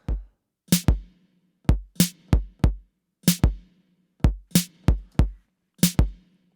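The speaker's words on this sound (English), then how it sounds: "that kick drum with the snare sounds like this" A programmed 808 kick and snare pattern in Logic in 4/4 for a song, sparse punchy hits in a steady groove, clean and alone with no other instruments.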